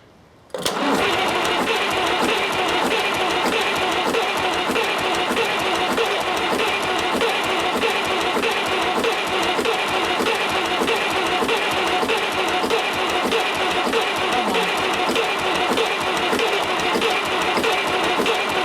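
A 70-year-old International 275 diesel tractor cranks and fires after fresh fuel reaches its injectors, then runs steadily at a loud, close, rapidly pulsing idle for the rest of the stretch with no talking.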